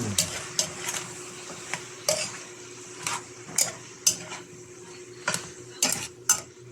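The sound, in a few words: stirring sautéed bottle gourd (upo) in a pan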